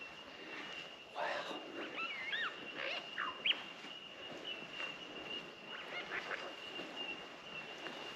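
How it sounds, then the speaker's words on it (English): Varied lyrebird calls, quick whistles and chattering phrases, ring out at moderate distance over a steady high insect-like hum in quiet surroundings on a hiking track in the Nadgee Wilderness. "I spotted a lyrebird on the track."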